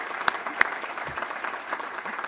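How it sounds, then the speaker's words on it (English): An audience at a global food systems forum applauds before former Irish president Mary Robinson comes up, a continuous wash of clapping from a large crowd with a few sharper nearby claps standing out. "we can clap now"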